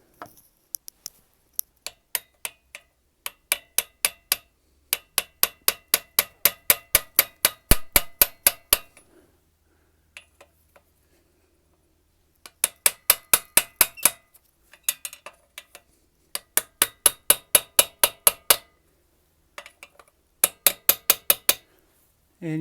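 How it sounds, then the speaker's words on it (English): Pushrod tube seals on a Type 4 VW Bus engine tapped into place with a socket extension, giving bursts of rapid, sharp metallic clinks separated by short pauses, close and clear with no talk. "I'll just put my extension on there, and you'll hear the difference when I tap it"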